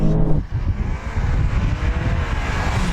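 A Porsche 911 Turbo S drag racing a Skoda Superb sleeper, a loud, dense, continuous engine roar under hard acceleration that stays strong across the whole stretch, with no speech.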